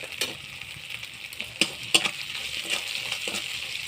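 Spice paste sizzling in a hot pan for a Bengali egg curry, a soft steady fry punctuated by a few sharp scraping taps of a spoon stirring against the pan.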